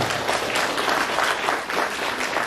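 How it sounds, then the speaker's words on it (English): An audience claps continuously, a dense wash of hands that swells slightly in waves and never fades. "That's Brother Aslan, let's give our brother a round of applause."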